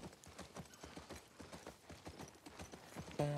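Horse hooves clip-clop at a steady trot during riding in the video game The Last of Us Part 2, a continuous even rhythm of thuds with faint game ambience behind.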